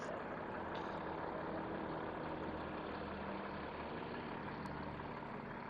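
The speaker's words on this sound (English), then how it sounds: "Oh, just in time for the garbage truck," Garbage truck on a morning street in Regina, its engine droning steadily at a distance, a low continuous rumble with no breaks.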